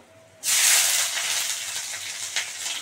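Whole dried red chillies, coriander seeds and bay leaf hit hot oil in a pan for tempering, an abrupt loud sizzle that flares up then settles into a steady frying hiss, heard close and without talk.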